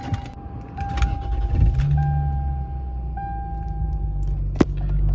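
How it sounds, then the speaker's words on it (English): A Lexus GS300 being started: soft electronic chime tones ring out, then the engine catches into a low, steady idle rumble, ending with a sharp click near the finish. "just start the car and see if the light turns on"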